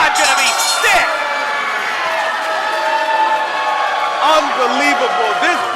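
A live professional wrestling crowd fills an indoor venue with loud, sustained jeering and whistles, while a commentator talks excitedly over the noise.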